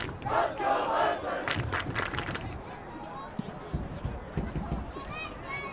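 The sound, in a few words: student fans cheering at soccer championship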